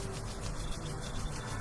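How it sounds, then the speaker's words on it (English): Palms rub together briskly and continuously during a breathing exercise, a close, steady dry swishing with no talk over it. "Rub it, rub it, rub it till you feel heat"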